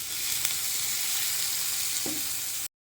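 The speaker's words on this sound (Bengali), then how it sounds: "গ্রেভিটা টকবক করে ফুটছে" Crab curry gravy bubbles and sizzles steadily in a pan, a close, constant hiss with faint pops, ending abruptly in silence.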